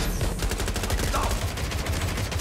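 A drone firing on the player in the video game Watch Dogs Legion, producing a steady, unbroken rattle of rapid gunfire with a busy game-audio mix layered underneath.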